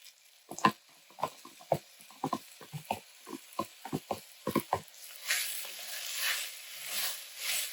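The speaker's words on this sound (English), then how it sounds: "We're going to let this saute up for about 5 minutes" Holy Trinity vegetables sauté in a pot for a Creole daube, first as scattered clicks and taps of stirring, then a steady soft sizzle building from about five seconds, close and fairly quiet.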